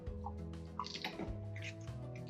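Water pours and trickles into a bottle of sprouting beans, with small drips and splashes over a steady background hum, close and moderately quiet.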